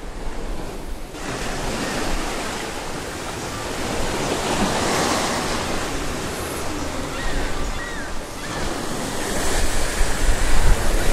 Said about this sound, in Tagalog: Itong dagat na to ay ang tawag dito ay ang Johor Straits.